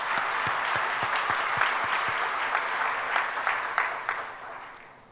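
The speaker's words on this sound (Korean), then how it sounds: "아버지 하나님 앞에 감사 영광의 박수를" Congregation applause during a Korean Friday overnight church service: a large crowd claps in a rhythmic beat that loosens into dense applause, then fades toward the end.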